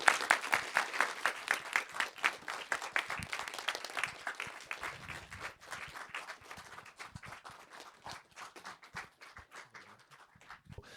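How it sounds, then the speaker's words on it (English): Audience applause after an anti-war animation presentation, crisp hand claps starting fairly strong and gradually thinning and fading over the stretch, heard at a moderate distance. "give a big applause to Sepideh Farsi"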